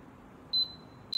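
A single high electronic beep from an XDeer CS100 fingerprint lock sounds, then holds as a thin steady tone, with a second short beep starting right at the end over faint background hiss.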